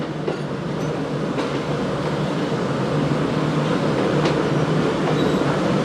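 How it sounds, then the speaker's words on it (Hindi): Jaffar Express pulling out of Multan Cantt station at night behind locomotive 4562, a steady loud rumble of wheels and carriages rolling continuously with faint rail clicks. "अब जाफर एक्सप्रेस भी रवाना हो चुकी है मुल्तान कैंट से"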